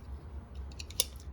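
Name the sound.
scissors trimming excess thin quilt batting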